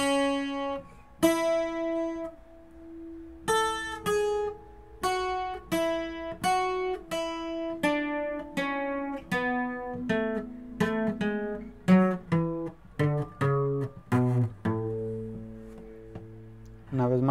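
Requinto guitar plucking a lead passage from a song as a steady series of distinct bright notes, evenly spaced then quickening toward the end, close and solo with no talking over it.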